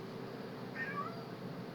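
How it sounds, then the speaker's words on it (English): One faint, short meow from a cat, nearly lost in a steady background hiss and hum. "Meow, meow, meow, meow, meow, meow, meow, meow, meow."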